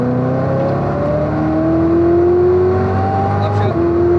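Chevrolet Corvette C7 ZR1 accelerating hard on a race track, a loud, steady engine drone climbing in pitch through the gears with a brief dip at a shift near the end, close and continuous with no talk.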